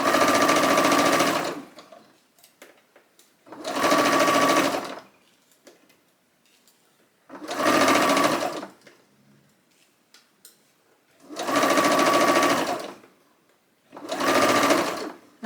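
Sewing machine running in five separate bursts of about a second each, stitching fine dress fabric at normal stitch length, with quiet gaps between runs.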